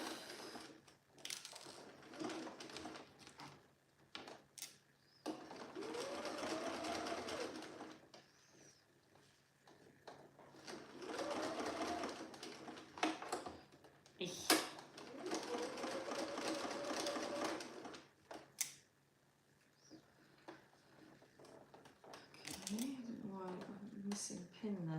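A domestic sewing machine stitches along a jacket neckline, running in three bursts of several seconds each with a whirring, rhythmic hum and short pauses for checking between, close and clear over a faint background hiss, no talking.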